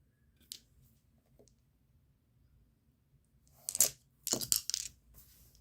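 Dice rolled on a table for a tabletop football game rattle and clatter in a few short bursts of hard clicks, close and crisp, after a couple of isolated light taps in near silence.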